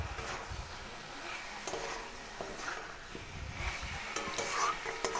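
Spice paste sizzles together with fried pointed gourd (potol) in a pan for a vegetarian dish, with a steady close frying crackle and occasional scrapes and clinks of stirring, no talk.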